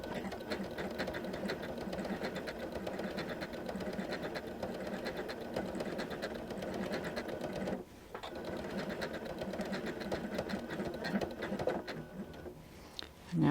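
A Janome M17 sewing machine stitches steadily while couching yarn, a continuous close mechanical whir and rapid needle patter with one brief pause partway through and a short slowdown at the end.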